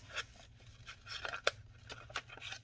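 Scissors snip at a paper bag in short, faint, irregular cuts and crinkles, with quiet gaps between the crisp bursts of paper noise.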